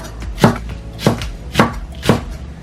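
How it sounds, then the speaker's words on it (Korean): Knife julienning green onion (daepa) on a cutting board, four evenly spaced crisp chops close by with no other sound. "대파는 잘 녹아들도록 채 썰어줄게요."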